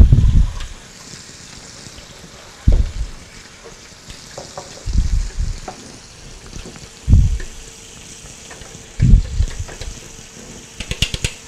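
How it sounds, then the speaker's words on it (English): A whisk stirs a lime zest mixture in a bowl with short, repeated bursts of scraping and swishing, close up and separated by brief pauses. "And I'm going to whisk this together."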